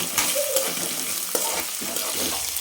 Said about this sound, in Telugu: సేపు ఆనియన్స్ బ్రౌన్ కలర్ వచ్చేంత వరకు వేపుకోండి